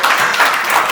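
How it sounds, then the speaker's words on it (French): Brief burst of audience applause at a charity trophy ceremony, a dense, close, steady clatter of many hands lasting about a second. "Merci, applaudissons encore davantage."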